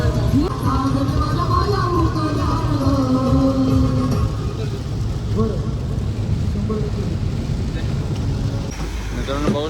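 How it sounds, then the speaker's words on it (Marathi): Heavy rain drums steadily on a car during a road trip near Vadodara, a loud continuous hiss and rumble with a person speaking over it. "मित्रांनो बघू शकता तुम्ही इकडे भरपूर पाऊस पडलेला आहे."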